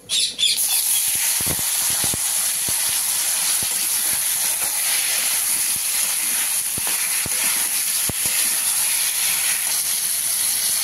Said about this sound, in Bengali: এবার আমি দিয়ে দিচ্ছি টমেটোগুলো।